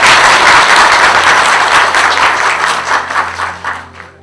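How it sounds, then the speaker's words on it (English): Audience applause at a seminar in The Hague on Afghanistan's death lists, a loud, close burst of many hands clapping that holds steady and then fades out at the end. "I ask you to applaud for her"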